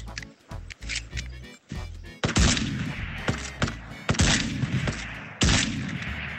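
Rapid gunshots in a shooter video game, with a pump shotgun among the weapons, several sharp, loud bursts firing in quick succession with brief gaps.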